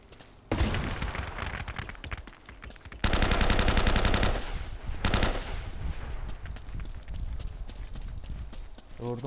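Rapid gunfire rattles through the video game Uncharted: Drake's Fortune in loud, dense automatic bursts, one long volley in the middle and shorter ones around it, with faint pauses between.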